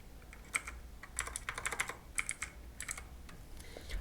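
Fingers typing on a computer keyboard: close, quiet bursts of clicking keystrokes in uneven runs, with short pauses between groups, alone in a quiet room.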